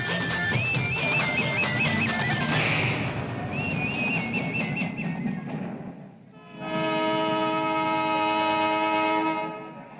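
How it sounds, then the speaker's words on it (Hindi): A train departs a station with rumbling wheels and carriage noise, then a long, loud train horn blares with sustained tones for several seconds. "अरे ट्रेन छूट रही है"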